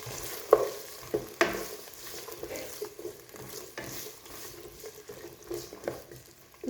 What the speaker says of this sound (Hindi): इस तरह अब हम इन गाजरों को भी थोड़ा सा फ्राई कर लेंगे।